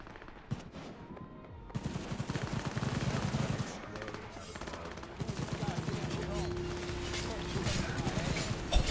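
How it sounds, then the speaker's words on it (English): Bursts of automatic gunfire in the video game Cyberpunk 2077, rapid cracking volleys at mid distance, mixed with game effects and someone talking over them. "Wait, they're shooting."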